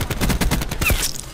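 Rapid automatic gunfire from Call of Duty: Black Ops 4 team deathmatch rattles in a dense, close burst of shots, then trails off.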